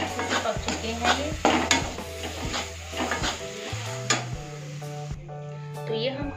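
Spices and masala for a jackfruit dish are stirred together in a kadai, rhythmic scraping strokes of the spoon against the pan over a light sizzle, with a steady hum and tonal background underneath.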